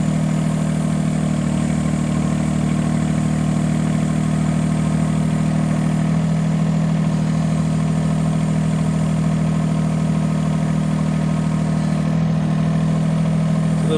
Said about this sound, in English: You'll see that the auger drive sort of slowed down a little bit.